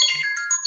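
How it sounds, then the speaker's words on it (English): A phone's message notification tone, a short bright electronic melody of a few quick notes, loud and close, with no talking over it. "My phone. Why did it do that? Got a message."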